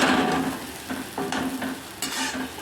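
Onion masala for egg dopiaza sizzles steadily in hot oil, with a spatula scraping and stirring through it in repeated short strokes, loud and close, with no voices.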